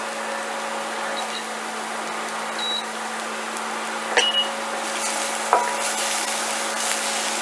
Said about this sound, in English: stir the garlic around, get that incorporated with the oil for about 30 seconds